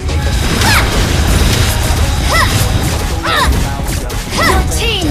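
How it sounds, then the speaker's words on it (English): Dense crashing and booming from a turret being destroyed in the mobile game Mobile Legends, a loud continuous clash of game effects with rising chirps layered on top. "Your team destroyed the turret."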